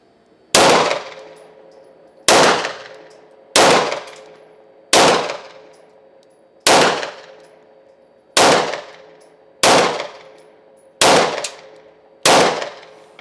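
An FN BDA-9 pistol fires eight loud, sharp shots one at a time at an even, unhurried pace, each crack ringing out with a decaying tail until the magazine runs empty; no talking.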